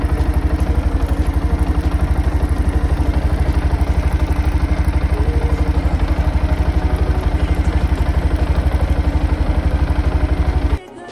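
A motorcycle on a late-night delivery run holds a steady, rhythmic engine chug with a constant mid-pitched drone, close and even throughout before cutting off abruptly at the end.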